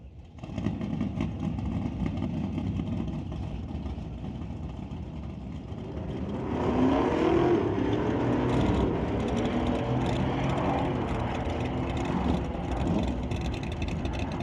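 A 2024 Ford F-150 runs in a drag race down the strip. Its steady engine rumble swells louder partway through and then holds as a continuous roar at moderate distance.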